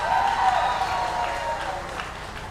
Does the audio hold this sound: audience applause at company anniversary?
yes